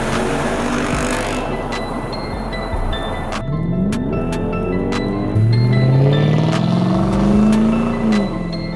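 A Jaguar XK8 with a naturally aspirated 4-litre aluminium V8 runs close by, settling from a strong idle into several rising and falling revs with a smooth, deep engine tone, heard alone.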